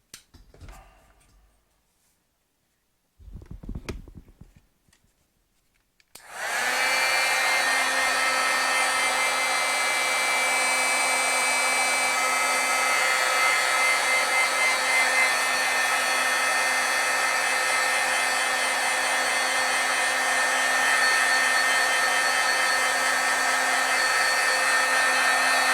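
After a few quiet seconds with faint handling noises, a heat tool switches on and blows a loud, steady whirring hiss without pause, drying stamped ink on paper.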